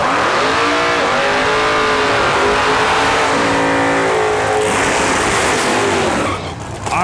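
Drag racing at Lapeer Dragway with a Chevy II against a 1955 Chevy Cameo pickup: loud engines revving and climbing through rising and falling pitch sweeps, with tire squeal, close and filling the whole stretch before easing off at the end.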